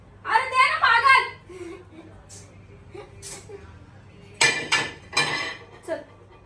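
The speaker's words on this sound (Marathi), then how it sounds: "तवा घेऊन गोल फिरणे" A metal tava griddle is handled and spun, giving short bursts of clattering metallic clanks in a loose, uneven rhythm, close and fairly loud, with quiet gaps between.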